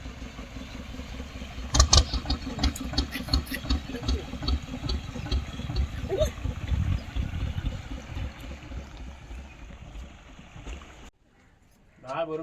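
A small motorboat engine drones on a village river, a steady low rumble that swells slightly as it approaches. Voices murmur nearby, and the sound cuts off sharply near the end.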